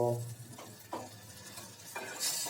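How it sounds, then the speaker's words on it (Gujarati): Sour buttermilk being poured into a hot cooking pan of tempering for a Gujarati spiced rotlo dish, with stirring and scraping sounds, soft sizzling and a brief splash near the end, close and alone. "આપણી જે ખાટી છાશ લીધી હતી તે ગ્લાસ તે પણ અંદર ઉમેરી દઈશું"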